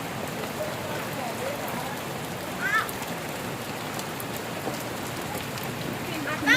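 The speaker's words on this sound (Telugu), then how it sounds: "ఐస్ గడ్డలు పడుతున్నాయండి." Hailstones fall over village houses in a dense, continuous patter with scattered sharper hits, like heavy rain drumming on surfaces, steady throughout.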